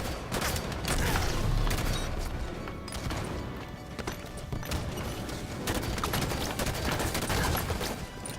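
Gunfire in the video game Halo 5, a dense, continuous stream of rapid shots and impacts that stays loud throughout, with no talking.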